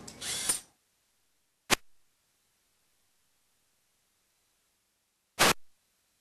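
A trash sorter machine moves an aluminum can through its mechanism in three short, sharp mechanical bursts with near silence between them and no voices.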